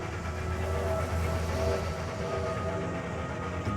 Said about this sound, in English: The greatest urban train yard in the world.